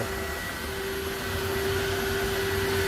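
A Tineco Floor One S2 cordless wet floor cleaner runs steadily with a constant motor whine and airy whoosh, moderately loud and close, with no talking.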